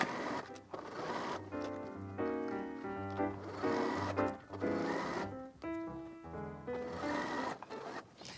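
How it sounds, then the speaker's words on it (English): A sewing machine stitches a long seam down a travel-size pillowcase, its motor humming steadily in a series of runs with short pauses, close and moderately loud. "we're just going to sew all the way down"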